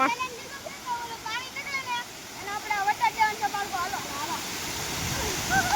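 Water rushing through the opened gates of the Shetrunji dam makes a steady, distant broadband roar, while several people talk over it throughout.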